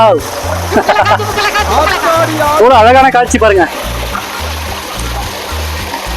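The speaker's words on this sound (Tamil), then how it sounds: "இந்த நிழலில் மோட்டர் விடல எப்படி தண்ணி இறக்குது பாருங்க" Water pours and splashes steadily over a small lake waterfall in a shaded spot under jackfruit and mango trees, with a continuous close rush under someone talking and a rhythmic low thumping beat.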